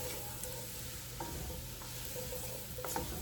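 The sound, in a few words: mushrooms cooking in a pan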